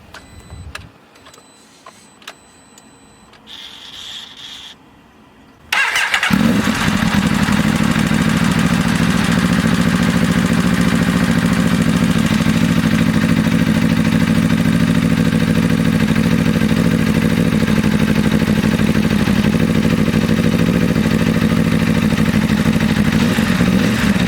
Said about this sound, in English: Let's fire her up and hopefully there's no friggin' leaks